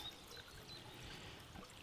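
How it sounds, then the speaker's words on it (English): Water flowing and trickling in the woods, a steady soft, faint babbling stream with no voices over it. "listen to the water"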